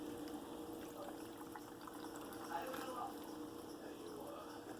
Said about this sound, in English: this is spring water. So I'm gonna go ahead and put the spring water in here